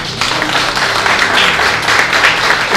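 Congregation applauding the Lord during a church sermon, a steady dense wash of clapping from a large crowd that holds evenly throughout, close and fairly loud.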